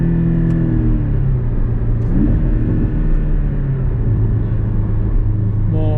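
A Porsche 718 Cayman accelerates hard from inside the cabin, its engine droning loudly and climbing in pitch, then dropping quickly with each rapid gear shift before rising again.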